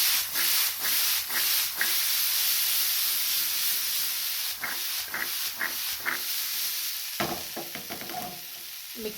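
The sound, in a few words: mixing food in a pan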